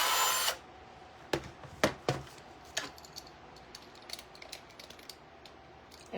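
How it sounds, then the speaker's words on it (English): Cordless power drill whirring briefly into a plastic glider on a wooden treehouse, a loud burst at the start followed by several short sharp bursts and scattered clicks and knocks in a quiet space. "I go in here, I just let it drill"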